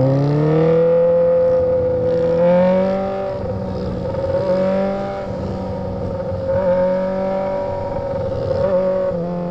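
A car engine revs and accelerates up through the gears without the clutch, a loud, close, steady drone that rises and dips with each shift, heard alone with no voices.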